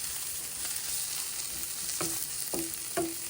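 Lentils dry-roasting in a pan for a chutney to go with ridge gourd curry, with a steady soft sizzle and three distinct scraping stirs near the end, close and without talk.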